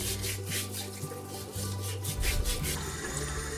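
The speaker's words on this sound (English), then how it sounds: "scrub the chicken with salt to remove any residual skin or small feather" A whole raw chicken is scrubbed by hand with salt, from the inside out, giving a steady close gritty rubbing and rasping that runs without a break over a low, even tonal background.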